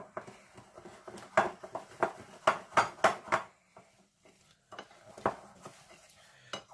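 Almond powder being stirred into orange cake batter: repeated scraping clinks of a utensil against a bowl in an irregular rhythm, close and fairly loud, with a brief pause before a final knock.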